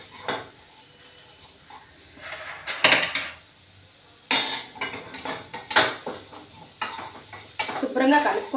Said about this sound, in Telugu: శుభ్రంగా కలుపుకోవాలి